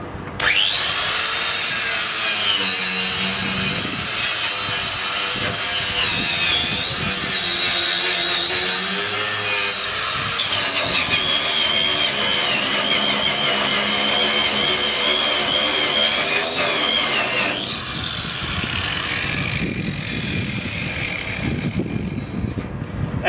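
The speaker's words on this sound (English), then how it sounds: "Now we're going to use the Twistknot wheel brush on the 5-inch angle grinder for getting in and cleaning" A Twistknot wheel brush spun by a 5-inch angle grinder scrubs rust and paint from a trailer, a loud continuous high whine with abrasive rasping that shifts pitch as it bears down, ending as the grinder winds down.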